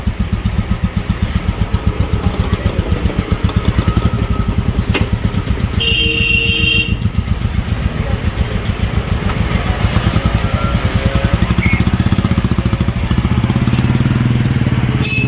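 A Royal Enfield Bullet motorcycle engine idling near the Atal Tunnel at Rohtang in Himachal, its loud, rhythmic thumping exhaust beat steady throughout, with a brief higher-pitched noise midway.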